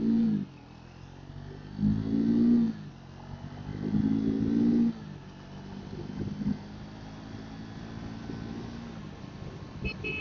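A Triumph Speed 400 motorcycle engine is revved in repeated bursts, the throttle blipped up to a loud drone three times before settling back to a low idle burble.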